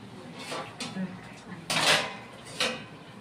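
A few scattered metallic clinks and knocks as a lid is set onto a pot of simmering pumpkin stem chachchari, a vegetarian Bengali curry, the clatters short and close amid quiet kitchen background.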